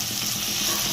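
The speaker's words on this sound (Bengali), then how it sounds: "এবার আমি লো ফ্লেমে ফুলকপিগুলো ভেজে নেব।" Cauliflower florets fry in refined oil over a low flame, a brief, steady, close sizzling hiss with no talking.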